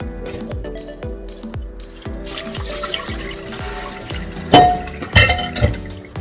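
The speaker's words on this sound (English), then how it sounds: "be sure to remove any of the excess rice that's also in the pot and strain that off as well." Excess water and loose rice being strained from a pot while cooking Persian saffron basmati rice: repeated soft rhythmic clinks and splashes of pouring liquid, ending in a few louder metallic knocks.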